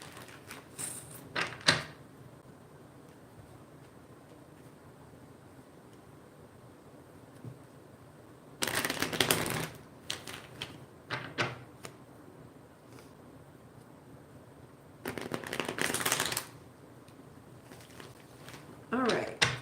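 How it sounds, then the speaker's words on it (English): Two bursts of tarot cards riffled and shuffled, each lasting a second or two, near the microphone over a quiet room hiss with faint handling noises between. "All right, let me shuffle these"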